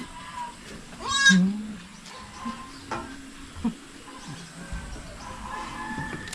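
On a small farm, one goat with young kids gives a single clear, wavering bleat close by, followed by quieter rustling and faint animal sounds while someone talks.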